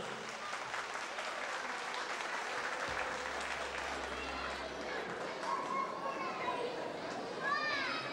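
An audience applauds a young singer, with scattered clapping mixed with children's voices, footsteps and crowd bustle in a lively hall.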